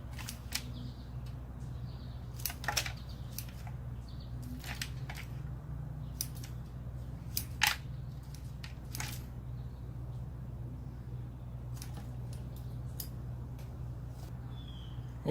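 Scissors cutting through hibiscus bonsai roots during repotting, sharp crisp snips scattered irregularly over low steady background hum, close and moderately quiet.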